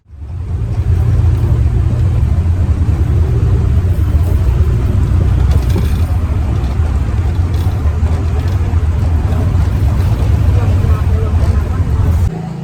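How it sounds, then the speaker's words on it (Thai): Bus ride from a bus station toward Chiang Dao, Thailand, with a loud, steady low engine rumble and road noise throughout and someone speaking over it. "เราขึ้นรถที่สถานีขนส่งช้างเผือกครับเพื่อจะไปเชียงดาวนะครับ"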